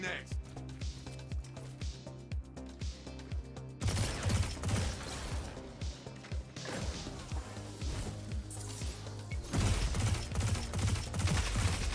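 Rapid gunfire from sniper and fusion rifles in a Destiny Trials match, with repeated sharp blasts and rattling bursts that build in rhythm and loudness, accompanied by game effects and a player's talk.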